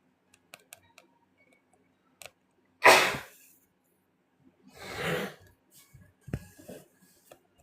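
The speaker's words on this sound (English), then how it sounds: "And my hubs is having a sneezing fit." A man's sneezing fit: two or three loud, abrupt sneezes a couple of seconds apart, with faint clicks and ticks between them, in a quiet room.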